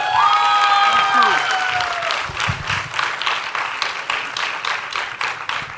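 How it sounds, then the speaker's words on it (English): An audience breaks into steady applause, many hands clapping together and holding a dense, even level before easing slightly toward the end. "can we have a special round of applause for them?"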